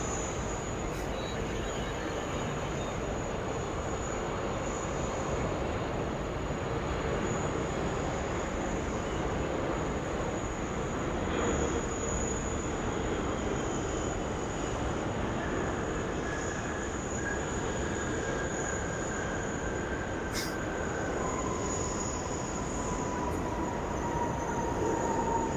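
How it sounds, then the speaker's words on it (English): A United Airlines Boeing 777-300 on short final into Sydney Airport makes a steady, broad jet roar that holds throughout at moderate level, with faint tonal whines rising late in the approach. "We've got a United Airlines 777-3 just coming in now, short finals in front of the Sydney backdrop."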